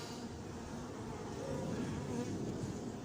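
A steady, dense drone of honeybees fills the air at an open hive, close and even throughout with no voices.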